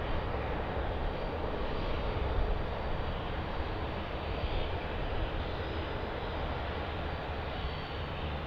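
An airliner taking off from runway 16 right at Sydney Airport, a steady broad engine roar held at constant strength, distant-sounding and unbroken throughout.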